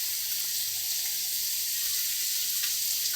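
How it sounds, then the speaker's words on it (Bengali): Water pouring steadily into a cooking pot, a continuous hissing splash that stays even and close for a few seconds with no voices. "তাহলে জল দিয়ে দিই"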